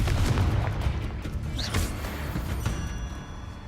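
The Confringo fire spell bursts in Hogwarts Legacy over dense, continuous game noise, with a booming blast and rumbling layered effects through the whole stretch.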